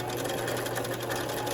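Steady whirring hum of a sewing machine winding thread onto a bobbin, running continuously at an even speed close by, with no speech.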